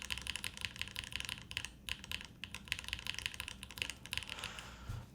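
Mechanical keyboard with untuned stabilizers being typed on in a quick test, rapid clacky keystrokes in a dense, steady stream, close up, with a short pause near the middle and no speech.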